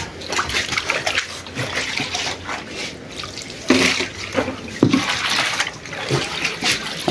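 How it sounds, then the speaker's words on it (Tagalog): Small waves splash and slosh against the shore during fishing, with irregular wet surges and splatters at close range and a couple of louder splashes midway. "Alon-alon."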